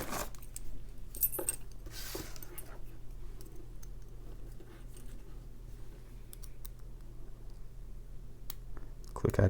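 Faint, sparse metallic clicks and ticks come from picking a Hurd 45mm brass padlock, set over a steady low room hum, with a slightly louder rattle at the very end.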